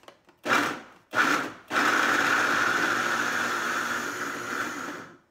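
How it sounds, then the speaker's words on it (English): A blender whirs through raw vegan lasagna sauce in two short pulses, then runs steadily for several seconds as a loud, even motor drone before cutting off. "So let's blend."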